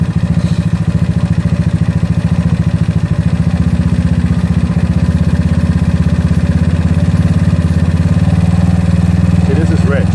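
A GY6 scooter engine fitted with an OKO PWK 30mm carburetor runs rich, giving a steady, loud, vibrating drone at a fast idle that holds even throughout.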